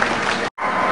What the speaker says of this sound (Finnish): Aplodit Erkille